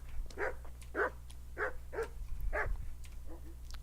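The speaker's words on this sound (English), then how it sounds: "Hi, doggy dog. You friendly dog?" A dog in a video game barks about five times in a steady rhythm, moderately close over a low constant game backdrop hum.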